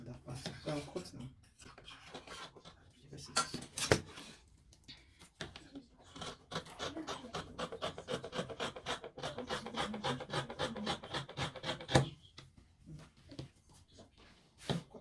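Scissors cut through fabric for a jumpsuit in a sewing session, a soft rhythmic run of crisp snips and rubbing close by, with quiet speech in the background at times.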